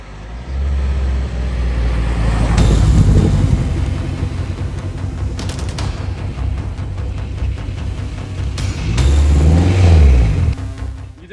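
A K-swapped AWD turbo Honda Civic EG hatch driving out past a cornfield, its engine droning and revving from a distance, rising and falling in pitch, with a second surge of acceleration near the end.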